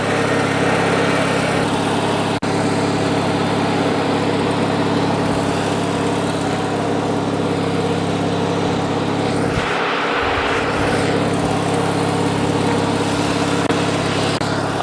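A Craftsman LT1000 lawn tractor's Briggs opposed-twin engine runs steadily at close range, a constant droning hum with a brief low thump partway through.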